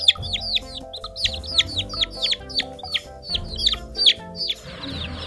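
Rainbow-coloured chickens cluck and chirp in a rapid run of high calls, close and fairly loud, over a soft background hum.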